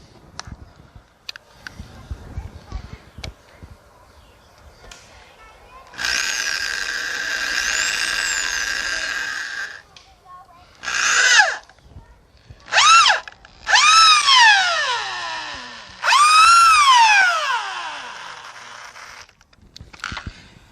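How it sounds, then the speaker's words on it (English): A power drill driving screws into a wooden board for a tree house platform whirs in several separate bursts, its whine sliding down in pitch as it strains, with short quiet pauses between runs. "Now my drill's not strong enough for some reason to get it all the way through the board"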